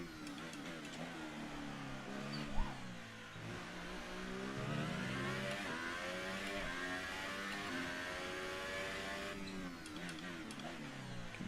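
A Formula 1 car in the F1 2018 racing game on the Azerbaijan Grand Prix circuit, its engine climbing through rising revs in repeated sweeps, loud and steady throughout with no voices.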